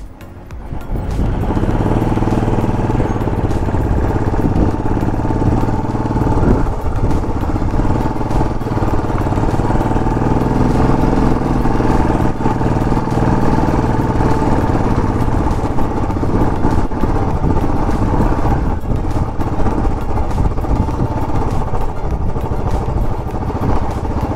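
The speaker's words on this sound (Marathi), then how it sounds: "घेऊ मी पुढे बाईक?" A motorcycle engine runs steadily and loudly at close range for the whole stretch, a constant rumbling drone with a low, even throb, on a bike ride through the Leh and Nubra Valley region, with no talk over it.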